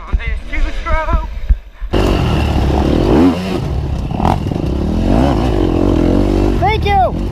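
A two-stroke dirt bike engine revs and accelerates through an off-road race lap, loud and rising and falling, with excited talk over the ride and a brief quieter stretch at the start.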